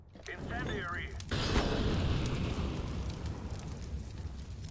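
An incendiary grenade in a video game bursts into a broad, roaring fire that keeps burning steadily, loud and close, after a short burst of voice at the start.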